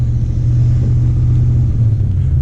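A manual-transmission Lincoln Mark VIII engine revs hard, its steady low rumble loud and close throughout with no voices over it.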